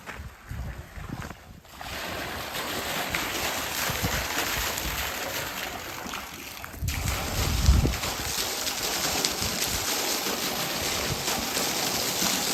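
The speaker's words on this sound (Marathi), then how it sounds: "मित्रांनो आता आपला पंप चालू झालेला आहे" A Rotomag 3 HP solar water pump running at a well, heard as a steady loud broadband rush of flowing water and noise that swells slightly midway, with no voices.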